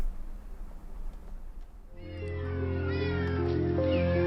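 Many cats meow together, a close, loud overlapping chorus of drawn-out cries that starts about halfway through after a quieter stretch of background noise and then continues without a break.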